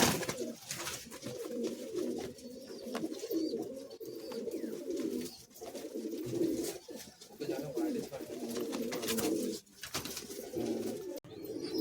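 Caged Madrasi pigeons coo in soft, repeated rolling calls, close and fairly quiet, with short pauses between phrases and faint background noise.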